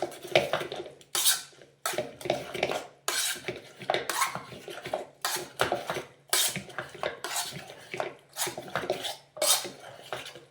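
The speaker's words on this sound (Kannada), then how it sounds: "ನೋಡಿ ಎಷ್ಟು ನೀಟಾಗಿ ಸ್ಮ್ಯಾಶ್ ಆಯಿತು ಕ್ಯಾರೆಟ್ ಚೆನ್ನಾಗಿ ಸ್ಮ್ಯಾಶ್ ಆಗಿದೆ" Cooked carrots mashed in a metal vessel for carrot halwa make rhythmic bursts of scraping and clattering, a utensil knocking and grinding against the pot in repeated strokes, close and fairly loud, with no talk.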